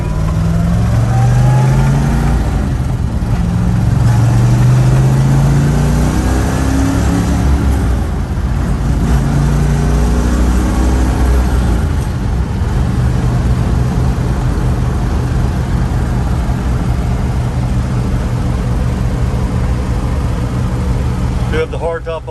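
A 1965 Corvette convertible with a 327 engine, hardtop fitted, runs steadily while driving, its loud continuous engine note rising and falling through gear changes for the whole stretch.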